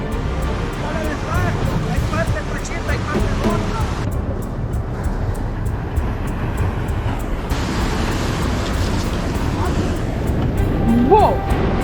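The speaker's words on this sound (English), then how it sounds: "we need to get across the waves, and they're quite big today" Big ocean waves off the coast of El Salvador batter a small boat, giving a continuous loud roar of surf and rushing water with engine noise underneath, swelling toward the end.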